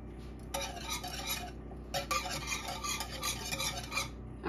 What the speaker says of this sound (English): I'm gonna add my lemon juice to it. And I'm gonna whisk that.